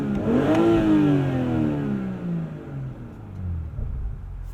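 BMW 840i xDrive Gran Coupe with its inline-six engine revs up once, its pitch climbing and then falling away as the rumble settles to a quieter idle.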